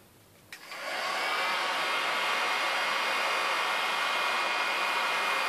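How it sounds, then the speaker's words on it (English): A heat gun blasts hot air along the sides of a beeswax-coated shoe to melt the wax; after a brief quiet start it switches on into a steady, loud, close blowing roar that holds to the end with no talk. "just heating up the sides of the shoe, getting all the beeswax that just runs off"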